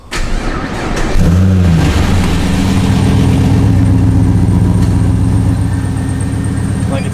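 A 2003 BMW E46 M3 engine with an aftermarket exhaust cranks and fires up, then settles into a loud, deep, rumbling idle that holds steady close by.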